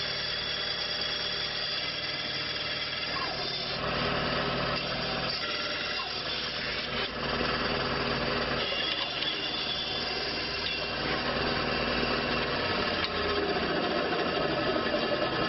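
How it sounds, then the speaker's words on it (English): A bandsaw whines with a high, steady motor drone as the blade resaws a wood carving blank, pitch shifting slightly as the cut progresses, loud and close. "then I'll resaw it on the bandsaw"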